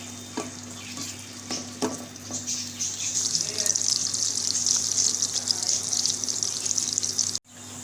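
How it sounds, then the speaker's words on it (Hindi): Onions frying in oil in a kadhai make a loud, steady sizzle that builds and holds, with a few scrapes and stirs early on before it cuts off near the end. "ये तो अब हम अपनी कढ़ाई में जो है ये ऑयल डालेंगे और ये प्याज डालेंगे"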